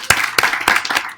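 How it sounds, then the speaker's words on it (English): A small comedy-club audience claps in a short burst of loud, close, irregular handclaps with no talking. "Give him another round of applause."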